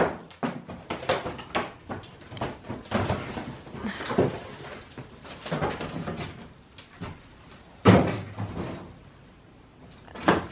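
Repeated thuds, bumps and creaks from a wooden door that will not close being pushed and rattled, with a louder knock near the end, close by and without talk.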